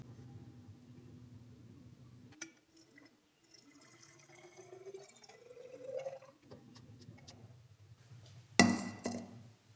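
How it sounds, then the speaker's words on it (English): Distilled water poured into a blank solution in a soil organic carbon titration setup, a soft trickle and faint splashing, quiet and close, ending in a louder splash near the end, with no talking. "Now we are going to add 200 ml distilled water to the blank."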